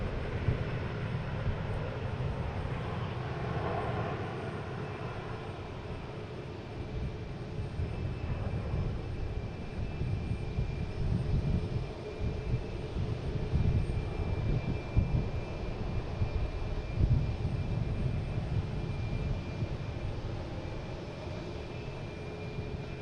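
Airbus A330-300 jet on approach to land at Boston Logan, arriving from Amsterdam: a steady, fairly distant low engine roar and rumble that holds through the whole stretch without fading.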